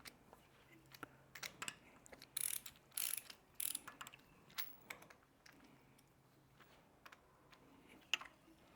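An engine bolt being snugged with a wrench during garage engine preparation, a series of quiet ratcheting clicks and metallic ticks in short irregular bursts, close up with faint voices.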